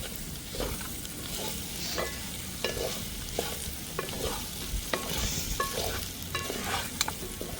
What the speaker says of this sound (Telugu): అలాగే ఒక 4-5 పచ్చిమిర్చి సన్నగల చీరికలాగా చేసుకుని వేసుకుంటున్నాను